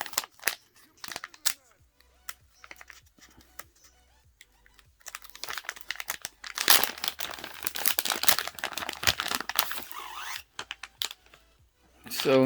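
A carbon fiber phone case for an LG V60 ThinQ 5G is unpacked from a plastic bag, giving sparse clicks and then a burst of crinkling and rustling plastic in the middle, fairly close and moderately loud.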